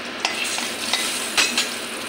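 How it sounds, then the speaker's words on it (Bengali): Whole cumin seeds and a bay leaf fry in hot oil in a pan, giving a soft continuous sizzle with a few light stirring clinks. "গোটা জিরা তেজপাতাটা একটু ভাজা ভাজা করে নিই।"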